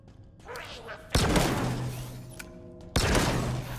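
A Halo Infinite gun fires two heavy shots seconds apart, each a sharp loud crack followed by a rumbling tail, with a voice talking faintly in between.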